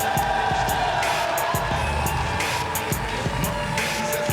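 A combat-sports arena crowd cheers and claps during the fighters' walkout, a steady roar of massed noise with scattered sharp claps throughout.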